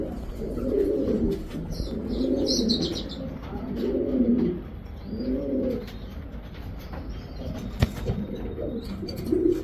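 Racer pigeons in a home loft coo in a steady series of low, rounded, throaty phrases, about five close calls with short gaps, over faint background chirps and a soft flutter.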